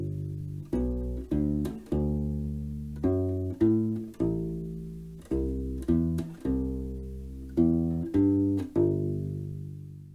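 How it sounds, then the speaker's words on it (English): A bass ukulele picks out an arpeggiated bass line in a steady rhythmic pattern, each plucked note sounding full and close, with the notes rising and falling through chord shapes and no voices present. "So our third type of bass line is going to be arpeggios."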